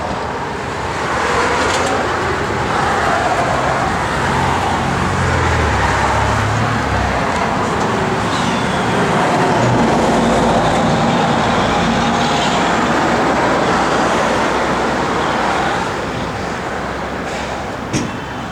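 A 1971 Plymouth GTX V8 with a six-pack carburetor setup and 10.5:1 pistons, running close with a loud, steady broadband rumble and no voices over it.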